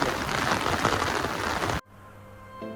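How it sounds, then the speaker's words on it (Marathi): Heavy monsoon rain pours in Konkan, a dense, loud, steady hiss that drops off abruptly near the end, leaving a quieter backdrop with a faint hum. "कोकणामध्ये पूर्ण पाऊस पडतोय."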